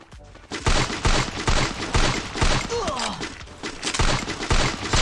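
Gunfire in the mobile game Free Fire during a Clash Squad match, loud rapid bursts of shots in uneven rhythm with a brief whooshing effect midway, close and dominant.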